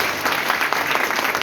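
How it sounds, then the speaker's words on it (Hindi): An audience at a business marketing event gives a burst of strong, dense applause, steady and close throughout. "एक बार जोरदार ताली"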